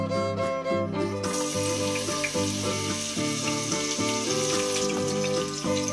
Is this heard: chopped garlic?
yes